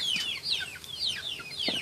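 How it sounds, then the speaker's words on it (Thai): Chickens cluck outdoors beside rice fields, a series of high chirpy clucks repeating at moderate distance over a steady open-air background. "ได้ยินเสียงไก่เสียงเป็ดเสียงนกไปสั่นแหละ"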